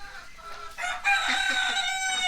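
A large goose calls with loud, honking, crow-like cries that swell and hold for about a second, close by and with no talking over them.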